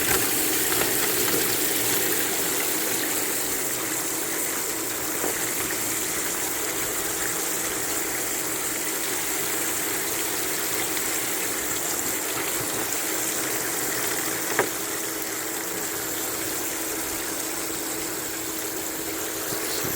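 Steady water rushing through a sluice while paydirt is rinsed on a hillside, a continuous broadband gush with a faint pump-like hum underneath, close and even, with one small clink midway.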